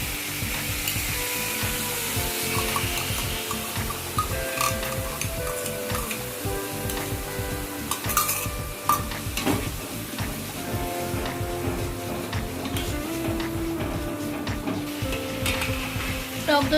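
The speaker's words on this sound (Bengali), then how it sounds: "টক দইটা দিয়ে খানিকক্ষণ কষিয়ে নিয়েছি" Spice masala with whisked sour curd stir-fried in oil for gondhoraj chicken, a continuous close sizzle with rapid rhythmic scraping and clattering strokes throughout, with no pause.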